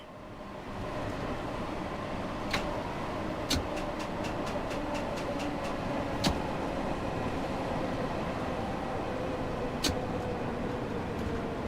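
An old small electric train with overhead wires in Train Sim World 5 gives a steady thin whine over a continuous rolling rumble, broken by a few sharp clicks and clacks, with no talking.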